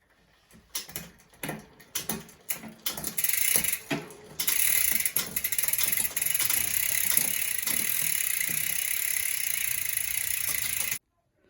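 Gear shifting on a SRAM NX Dub mountain bike drivetrain fitted to a 2021 Specialized Stumpjumper Alloy gives a run of close, crisp mechanical clicks and ratcheting ticks, then settles into a steady whirring freewheel buzz as the cranks spin, with no voices.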